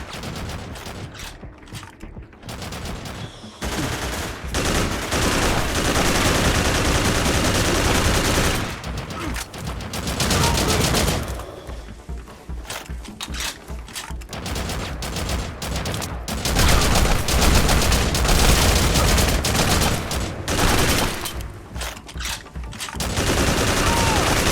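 Sustained automatic gunfire from the video game Haze, dense rapid bursts filling most of the stretch with only brief lulls, loud and close throughout.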